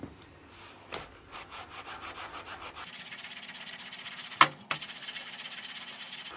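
A soaked, clay-like cleaner rubbed by hand across a metal table, giving rhythmic scrubbing strokes that turn into a denser continuous rasp, with a sharp metallic clink partway through.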